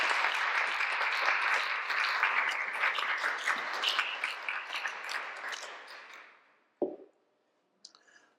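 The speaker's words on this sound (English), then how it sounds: "Can we give them a round of applause?" Audience applause at a church-related talk event, a dense sustained round of clapping that thins and fades out over about six seconds, followed by a couple of faint isolated sounds.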